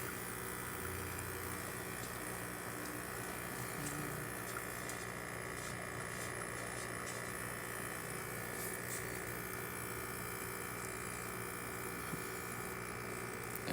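An espresso machine's pump runs in a steady, even hum while it pulls a single shot through the portafilter. The drone holds unbroken for the whole stretch, close by, with no voices.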